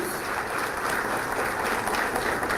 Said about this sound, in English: Let's give ourselves a round of applause for being here 10 years.